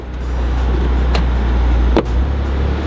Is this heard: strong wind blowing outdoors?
no